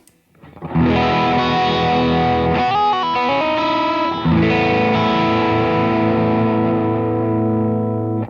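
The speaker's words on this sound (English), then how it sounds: "Into the line distortion." Electric guitar driven through a distortion pedal on a board built around the Jet Pedals Red Sea, ringing out heavily distorted sustained chords and a few changing notes, loud and steady with no voices.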